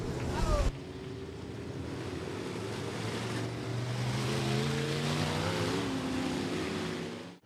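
USRA B-Modified race cars at Rapid Speedway roar past on the front stretch, a sustained loud engine drone with shifting harmonic pitch as the pack passes, with no talk.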